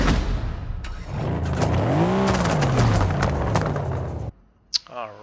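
A Mercedes-AMG GT Black Series in Forza Horizon 5 driving off, its engine roaring loud and close with a rising and falling rev sweep, then cutting out abruptly into near silence with a brief voice at the end.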